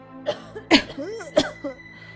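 A short series of raspy, hoarse coughs up close, a few bursts within a couple of seconds.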